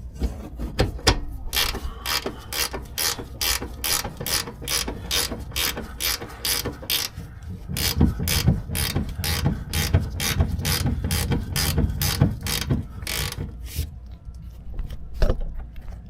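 Fast, regular clicking from a ratchet tightening bolts on a 3-inch front leveling kit for a 2014–2019 GM Silverado truck, a close, continuous run of metallic pawl ticks with slight pauses near the end and no speech.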